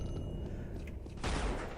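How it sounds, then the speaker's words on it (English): The alternate fire of a gun in Unreal goes off as a muffled rattle of rapid shots, then a louder burst near the end, with no talk. "That is the alternate fire for this gun."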